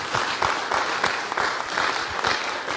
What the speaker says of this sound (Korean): 이럴 때 그래도 박수를 한번 해야 되는 거 아닌가?